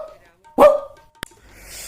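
A man imitates a dog with one short, loud vocal bark, followed by a faint click and low background noise.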